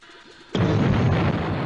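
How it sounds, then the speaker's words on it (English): A sudden loud explosive blast erupts from near silence in a 1959 Bullwinkle cartoon, a single booming burst that stays loud and rumbling as it fades slightly. "Foreign port disappears in mystery blast!"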